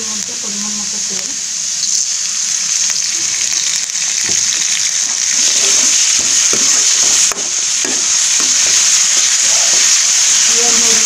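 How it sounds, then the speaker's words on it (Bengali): Oil sizzles steadily in a hot pan while dried fish is fried with chopped garlic, onion and chilli, a loud continuous hiss with occasional stirring clicks and no talking. "দেখুন এবার আমি দিয়ে দেবো এর মধ্যে পরিমাণ মতো তেল।"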